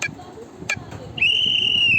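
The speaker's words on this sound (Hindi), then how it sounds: "ये सीटी चौकीदार ने नहीं बजाई थी, ये यश था" A shrill, sustained whistle blown at night as a prank cuts in sharply after a couple of brief chirps and holds steady, loud and close, over faint background noise.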